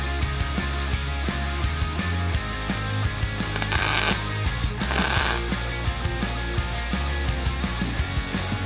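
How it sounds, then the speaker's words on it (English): A pneumatic cylinder pushes a tab to swing animatronic arms, giving rapid mechanical clicking and rattling with two short hissing air bursts in the middle. "So the cylinder will push the tab, which rotates the arms."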